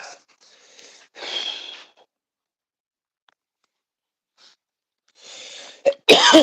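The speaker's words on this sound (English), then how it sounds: "Don't mean to cough in front of the phone" A person coughs close by in several harsh, raspy bursts separated by quiet pauses, ending with louder, sharper coughs.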